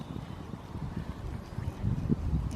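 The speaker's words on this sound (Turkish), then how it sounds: "oradan rüzgar geliyor ya" Wind blows outdoors straight into a microphone, making low, uneven rumbling gusts that grow stronger toward the end.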